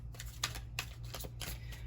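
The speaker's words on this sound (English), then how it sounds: "Let me just shuffle the deck up a little bit." Tarot cards shuffled by hand, several soft riffling bursts spread across a quiet moment over a low steady hum, with no voices.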